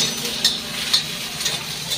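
Onion roasting on a hot tava for a spicy home-style chicken rassa, giving a steady close sizzle broken by a few sharp scraping stirs.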